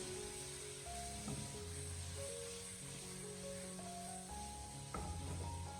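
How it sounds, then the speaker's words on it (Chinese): Loofah and egg stir-fried over high heat in a hot wok give a steady, faint sizzle with soft hissing throughout and occasional light scraping of the spatula. "这个时候我们开大火将它快速的翻炒大概1分钟左右，把丝瓜给它翻炒至完全的熟透"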